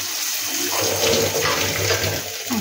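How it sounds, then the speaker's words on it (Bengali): Water streams steadily into a cooking pot for a Bengali small-fish curry, a continuous close splashing gush that swells slightly midway and runs on without any voices. "আমি আগে জলটা দেবো"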